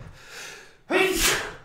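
A single sharp sneeze bursts out after a quiet breathy moment, loud and close, trailing off into a breathy exhale.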